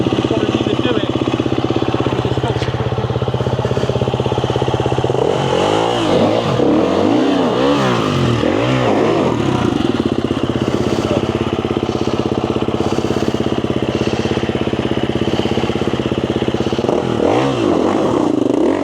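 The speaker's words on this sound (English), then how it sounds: "Small dirt bikes." Small dirt bikes rev on muddy trails, alongside a CF Moto 450MT and CCM MT230s. Engines drone loudly and continuously close by, with several rising and falling revs midway. People talk over the engine noise.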